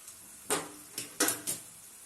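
Paneer pieces go into a pan of cooked tomato masala, making four soft, quiet sizzling plops a fraction of a second apart over faint background hiss.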